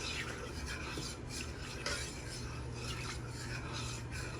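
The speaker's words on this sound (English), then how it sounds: "We're gonna whisk, whisk, whisk." A whisk scrapes rhythmically around a pan of roux gravy, giving a soft, repeated rasping and clinking close by with no talk over it.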